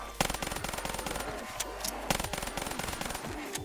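Rapid pistol fire from a first-person shooter in Call of Duty custom zombies, a McDonald's-themed map, with sharp repeated shots in steady bursts, loud and close, running almost continuously through the clip.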